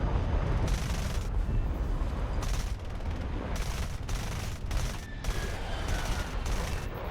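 Cannon fire from an A-4B Skyhawk jet in the combat flight game War Thunder comes as a series of sustained rapid bursts separated by short pauses, dense and harsh over a constant engine roar.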